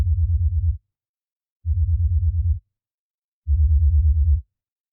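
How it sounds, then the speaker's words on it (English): Deep Ableton bass synth patch, a sine wave dropped two octaves through a driven filter whose cutoff is swept by a sine LFO, playing three sustained low notes with pulsing wobble, separated by silence. "we have a sine wave taken down by 2 octaves and a filter with its cutoff being modulated by LFO1"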